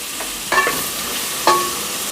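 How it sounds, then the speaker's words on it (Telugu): Drumsticks, turmeric and other sambar ingredients stirred in a pan, with two distinct scraping stirs of a utensil over a soft steady sizzle, close and fairly loud. "ఇప్పుడు వీటన్నిటిని మిక్స్ చేయాలి బాగా మిక్స్ చేయాలి"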